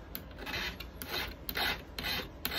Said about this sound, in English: we're going to file these rivets down on the green side